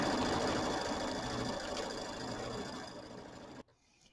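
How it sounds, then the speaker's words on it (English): A sewing machine runs steadily while quilting a star or snowflake design on a small Kimberbell mini quilt, loud and continuous with a dense mechanical hum, then stops abruptly near the end, leaving faint room noise. "this is going to take off and do the quilting of our little star/snowflake-looking stars"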